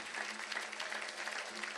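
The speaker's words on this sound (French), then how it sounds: "Acclame pour Jésus." A congregation applauds during a French-language church service, a dense, steady wash of clapping hands filling the whole moment without a break.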